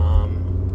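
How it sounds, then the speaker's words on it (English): A car engine idles with a loud, steady low rumble, heard close by and continuous, with no one talking. "My car's a little loud because I don't know why."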